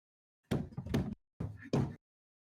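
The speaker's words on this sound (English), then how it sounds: "Stop slamming your desk." A school desk slammed in quick bursts, two heavy banging thumps, a short pause, then two more, loud and close with no talking.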